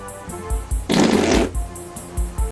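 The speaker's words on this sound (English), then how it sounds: "fart sounds" Fart sound effects from the Foley of the shot-on-Super 8 Canadian horror film Things (1989), a single loud, wet, sputtering blast lasting about half a second, between softer rhythmic thumps.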